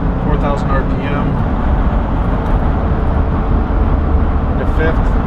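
A 1970 Porsche 911E cruises at about 70 mph on the highway in fourth gear at 4000 RPM. Its steady engine drone blends with constant road and wind roar at an even loudness throughout.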